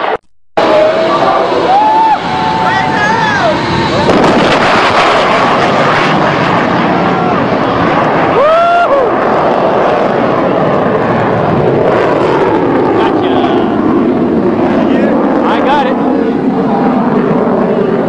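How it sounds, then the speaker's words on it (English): A Super Hornet fighter jet roars low overhead with a loud, sustained engine rush that swells and fades. Excited voices of onlookers talk over it. "Keep in mind that the speed that the Super Hornet is approaching is only a fraction"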